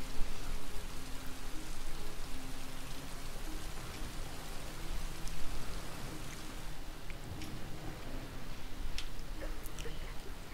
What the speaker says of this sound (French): Ça en fait de la pluie, hein.